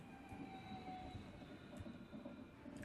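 Train arriving in the video game Locked-In Syndrome, a steady rolling rumble with wheel squeal and faint metallic clatter, continuous and fairly close throughout.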